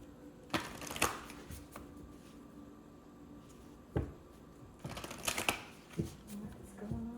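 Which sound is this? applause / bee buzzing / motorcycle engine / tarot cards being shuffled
tarot cards being shuffled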